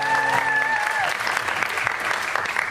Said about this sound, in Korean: 너무 박수 쳐줘서 감사드리고요